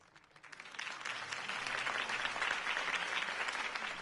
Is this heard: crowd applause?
yes